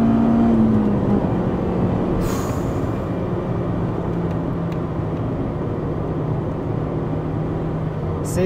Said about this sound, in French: de pouvoir faire chanter à ce point-là le moteur